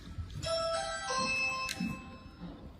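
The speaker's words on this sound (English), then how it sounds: "Rings the doorbell." A soft electronic chime rings a short melodic sequence of tones, faint and slightly distant against quiet room noise.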